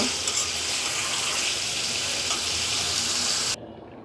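Beef simmering and braising in a pan gives a steady, loud broadband sizzle with a hiss that holds evenly, then cuts off abruptly near the end, leaving a quieter low rumble.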